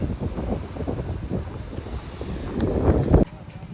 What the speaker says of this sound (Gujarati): અહીંયા પવન બહુ